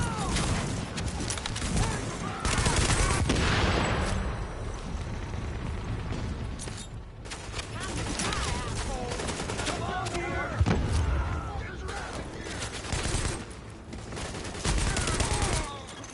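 A firefight in The Division video game, with dense bursts of gunfire and machine-gun rattle over a continuous loud background, and game voices talking in places.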